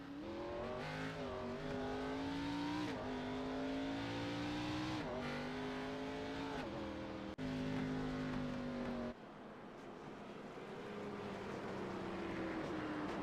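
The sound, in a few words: race cars on track during racing league broadcast replay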